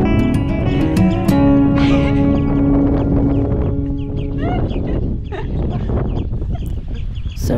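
Seabirds on a sea-cliff breeding ground in Iceland shriek at intruders overhead, with loud, close, repeated harsh calls overlapping and rising and falling in pitch.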